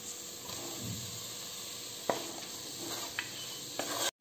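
Sweet corn and onions cooking in a pan give a soft, even sizzle with a few sharp scrapes of a stirring spoon, close and moderately quiet.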